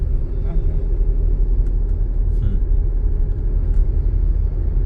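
A manual car's engine rumbles loudly and steadily during a driving lesson as the driver works the clutch, accelerator and gears, a close, continuous low drone throughout.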